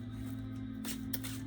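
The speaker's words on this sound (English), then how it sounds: "keep shuffling." Tarot cards shuffled by hand in a short burst of soft riffling and sliding, close and quiet over a steady low hum, with no talking.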